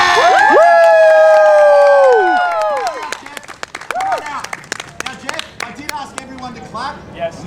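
A show audience in New Orleans bursts into loud cheering and whooping for a volunteer, followed by scattered clapping and shouts as the noise tapers off.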